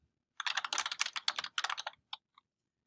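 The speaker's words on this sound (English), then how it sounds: "I did that by going into insert mode, typing, and then pressing escape." Rapid keystrokes on a computer keyboard while editing in vim, a dense burst of clicky typing for about a second and a half followed by a few isolated key taps, close and clear with no talking.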